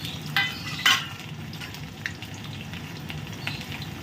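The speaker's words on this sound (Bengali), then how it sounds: "দিয়ে দিলাম তেলের মধ্যে ফোড়ন এগুলো।" Whole spices crackle in hot oil for a Bengali tempering, a steady soft sizzle with a couple of brighter pops early on, close and continuous with no talk.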